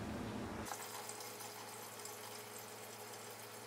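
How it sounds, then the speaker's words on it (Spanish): Cool tap water pours steadily into a pot of potatoes, a continuous splashing fill that starts abruptly after a brief moment and carries on evenly at close range with no talking. "And I always like to add cool water so we can cook the potatoes evenly."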